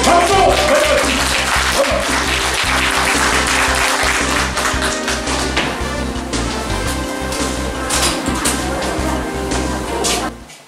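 At a People Power Party political rally in Bucheon, loud crowd applause rises over booming amplified music with a strong beat, continuing steadily for about ten seconds before tapering at the end.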